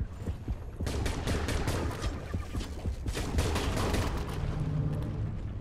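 Rapid rifle gunfire from the underwater shark-hunting video game Depth, sustained bursts of dense, crackling shots continuing throughout, loud and without talk.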